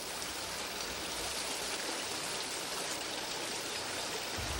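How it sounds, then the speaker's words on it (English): Loud waterfall in the outdoors: steady, dense rushing water roars without pause, close and full, with no voices. "Oh, that waterfalls is loud."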